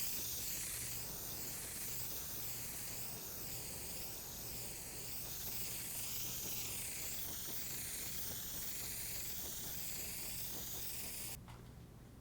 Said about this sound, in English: we're going to start out spraying slowly, carefully, avoiding runs, and it's going to take more than one coat